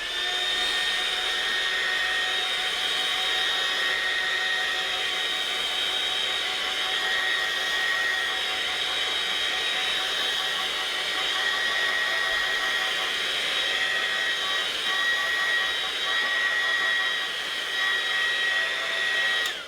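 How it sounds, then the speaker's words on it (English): A hair dryer drying watercolour paint blows steadily and close by, a continuous whooshing whine with a high motor tone that runs without pause. "Get the dryer on the job."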